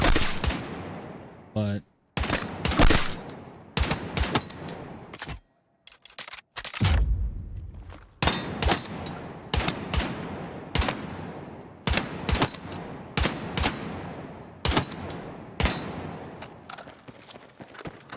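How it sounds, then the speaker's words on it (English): Repeated SVDM rifle shots in a first-person shooter, sharp loud reports spaced a second or so apart with echoing tails, with a few brief quieter gaps and someone talking between shots. "Okay, so this is going to be a very interesting weapon. Takes a while to shoot,"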